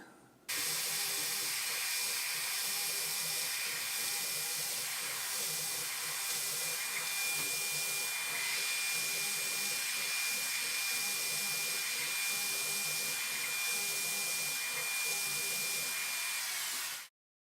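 A CNC mill's spindle runs while engraving, giving a loud, steady high-pitched whine and airy hiss with a faint tonal line, starting abruptly and cutting off at the end, with no voices.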